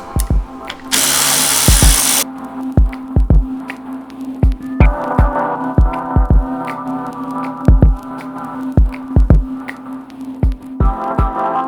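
A power tool spins off bumper bolts on an Ecoboost Mustang during an intercooler install. A short continuous whir is followed by a rapid series of sharp, repeated impact bursts over a steady mechanical hum, close and loud.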